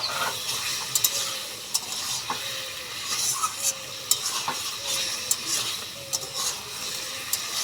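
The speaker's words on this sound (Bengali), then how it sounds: "আর এখন তরকারিটাকে ভালোভাবে কষিয়ে নেব।" Vegetable curry with lentil dumplings, potato, drumstick and ridge gourd sautéing in a pan, a constant loud sizzle with repeated spatula scrapes and taps at an uneven rhythm, close and without speech.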